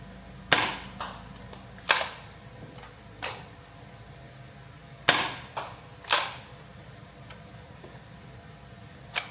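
A Nerf Rival-style foam blaster fires balls, sharp snapping shots at irregular intervals, some in quick pairs, with faint mechanical clicks between them and no talk.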